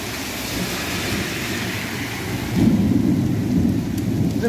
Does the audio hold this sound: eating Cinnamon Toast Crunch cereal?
no